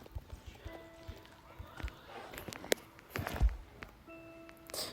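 Light rhythmic horse hoof clip-clops in a video game, with a few scattered clicks and thumps, fairly close, against a quiet background.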